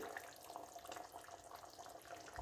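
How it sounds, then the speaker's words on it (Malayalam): Tamarind water poured in a thin stream into a jackfruit (seema chakka) curry in a home kitchen, a steady close trickling and splashing that runs unbroken with no talk over it. "ഞാൻ ഇതിനകത്ത് ലേശം പുളി ഒഴിക്കുന്നു"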